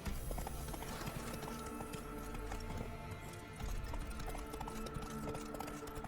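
Horse hooves clip-clop in a quick galloping rhythm in the video game The Witcher 3: Wild Hunt, steady and fairly close, with a faint voice beneath.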